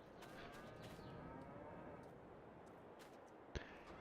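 Cattle on a farm in the Farming Simulator 22 game moo in long, low calls, fairly quiet and layered over one another, with a brief sharp click near the end.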